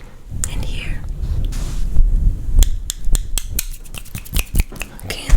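Close, crisp scissor snips cutting hair in an ASMR haircut, irregular sharp clicks scattered through the stretch over soft rustling and low handling noise, with quiet whispering in places.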